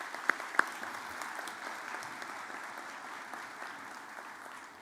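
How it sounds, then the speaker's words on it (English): An audience at a college convocation for Community and Health Studies gives a sustained round of applause, even and moderately loud, with a couple of sharp close claps standing out at the start. "Let's give them a round of applause"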